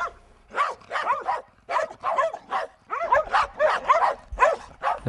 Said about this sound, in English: There's too many dogs just roaming around, especially at night.